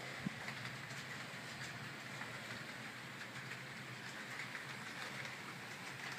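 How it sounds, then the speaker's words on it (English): A faint, steady rumble with a light rhythmic clatter, like a small model train rolling along its track on a layout module, continues evenly throughout without any voices. "And I'm even running a train"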